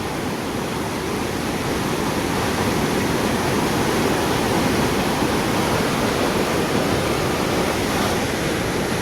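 The overflowing Moj dam and the flooding Moj river roar steadily, a loud, dense, unbroken rush of water filling the whole clip with no voices.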